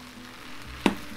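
Aged kimchi stir-fries in a pot with oil, a close, soft sizzle broken by one sharp scrape or clack of the spatula near the end, no talking.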